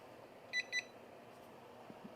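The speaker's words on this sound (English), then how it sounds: "Beep is loud." Two short, high electronic beeps in quick succession from a Turin electric gooseneck kettle over a quiet room hiss, followed by faint clicks.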